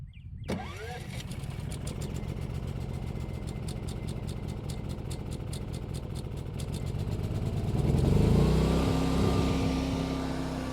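A Predator 9500 portable generator engine runs steadily after a choked start, a continuous close, loud mechanical drone that thickens and grows slightly louder toward the end.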